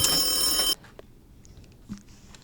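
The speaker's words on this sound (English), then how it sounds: "Why does the phone keep ringing?" A telephone rings loudly and steadily in a bright electronic trill for under a second, then cuts off, leaving near silence with a few faint clicks and a soft thump.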